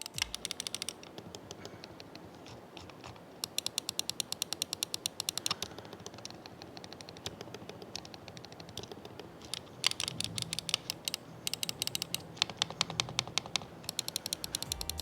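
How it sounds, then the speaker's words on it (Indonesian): Button clicks of a MOFii M6 wireless mouse, rapid bursts of crisp close-up clicking repeated in runs with brief pauses, loud and dry against faint background hiss, with no voices. "gimana suara klik dari semua tombol yang ada di mouse ini"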